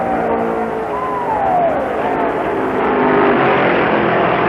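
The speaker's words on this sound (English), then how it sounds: "Only happiness lines Lee's face as his son streaks by Turner and goes into a lap lead" A stock car streaks past during the 1965 American 500 race, a loud continuous engine roar with a falling pitch sweep as it goes by, under a steady wash of crowd and track noise.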